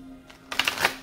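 A short burst of tarot cards being shuffled, a quick riffling flutter lasting about half a second after a near-silent start.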